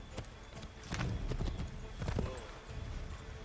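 Horse hooves clip-clop in Assassin's Creed 3 as a mounted ride moves along, a steady repeated beat of fairly close hoof strikes over a busy game ambience.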